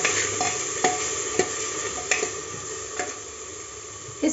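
Carrots, capsicum and chopped tomatoes stirred in a pan over a low to medium gas flame, a spoon clicking and scraping at irregular moments over a soft continuous sizzle, close up and without voices.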